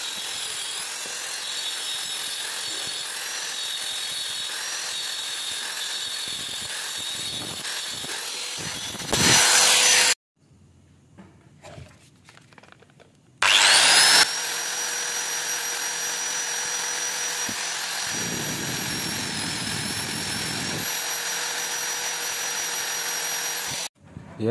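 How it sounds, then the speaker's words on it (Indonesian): An angle grinder whines steadily at high pitch while cutting wood, with a short pause midway before the harsh grinding resumes and continues. "untuk pemotongannya bisa menggunakan gerinda"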